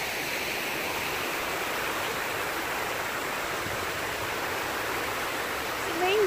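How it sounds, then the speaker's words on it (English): Steady rushing roar of a waterfall in Temecula, a constant broadband hiss of falling water that stays even throughout. "Let me show you the beautiful waterfall."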